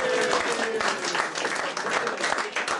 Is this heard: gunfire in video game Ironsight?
no